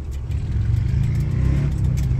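Loud motorcycles pass on the road outside a moving van, a steady close engine roar with revving that fills the whole short stretch.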